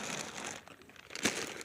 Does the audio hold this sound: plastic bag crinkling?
yes